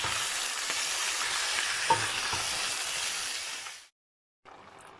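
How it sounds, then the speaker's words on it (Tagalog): Chunks of pork for a siopao asado filling sizzle and crackle loudly in a hot pan with occasional stirring scrapes, then the noise cuts out briefly before resuming more softly. "Ilagay na natin yung ating karne. Ang bigat ng karne. Cook po natin."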